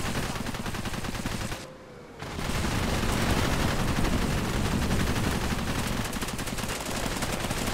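Airstrike explosions and gunfire in Cepheus Protocol: sustained heavy rattling fire and rumbling blasts, loud and dense, cutting out briefly near two seconds before resuming and running steadily to the end.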